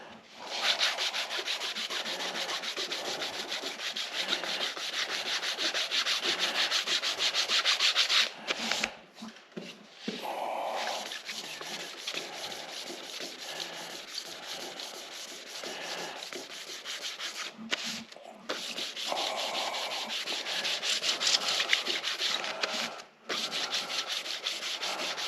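Hand sanding on a 2017 EZGO RXZ golf cart body with fine 600-grit paper gives a steady, close, rasping scrub in quick back-and-forth strokes, broken by brief pauses, with no talking.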